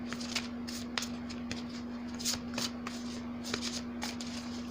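A tarot deck is shuffled up close in repeated quick riffles and soft card flicks, light papery bursts over a low steady hum, with no talk.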